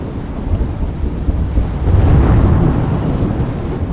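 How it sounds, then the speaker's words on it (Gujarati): Heavy downpour roars steadily in Kalavad, Jamnagar, Gujarat, with a deep rumble of thunder swelling through the middle, loud and close. "જામનગરના કાલાવડ શહેર તેમજ તાલુકામાં ધોધમાર વરસાદ ખાબક્યો છે"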